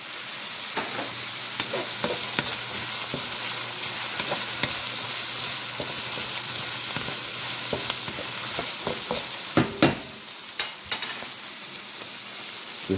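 Okra sizzles steadily in a hot pan, a continuous close crackle with occasional sharp clicks and scrapes of a utensil, louder taps clustering near the end.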